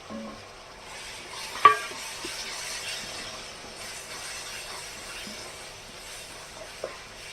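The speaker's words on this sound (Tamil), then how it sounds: "இது நல்லா கொஞ்சம் நல்லா பரட்டிக்கோங்க" Crab masala is stirred and fried in an iron kadai for Chettinad crab gravy, giving a soft steady sizzle with occasional sharp scrapes of the spoon against the pan, fairly quiet and without talk.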